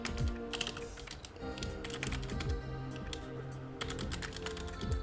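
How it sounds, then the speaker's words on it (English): Fast typing on a computer keyboard while coding, a steady run of close, crisp key clicks with occasional heavier thumps, no speech. "I like keeping up my typing speed, so we're gonna just go ahead and type it"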